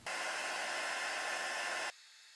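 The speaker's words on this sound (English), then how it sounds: "I'm going to heat up my heat tool and melt this embossing powder." A heat tool runs for nearly two seconds as a steady, loud broadband whoosh like a hair dryer, melting embossing powder for a heat-embossed St. Patrick's Day craft, then cuts off abruptly to a faint hum.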